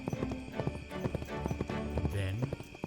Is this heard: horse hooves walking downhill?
yes